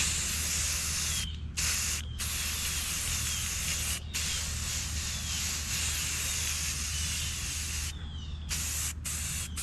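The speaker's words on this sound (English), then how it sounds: "I'm going to spray paint this wig" Spray paint hisses steadily onto a wig for a Statue of Liberty costume. The close, continuous spray breaks off several times for short pauses before starting again.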